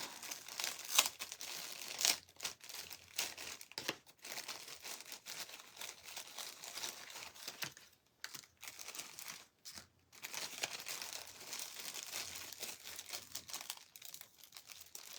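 A taped craft bundle being unwrapped by hand, faint intermittent crinkling of plastic and sharp tearing of tape in irregular bursts, with short pauses of near silence and no talking.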